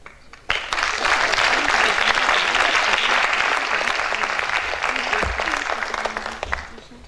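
A classroom audience of teachers and parents at a French lycée applauds students after their class presentation. The steady clapping starts abruptly, holds loud and dense for about six seconds, then thins out toward the end.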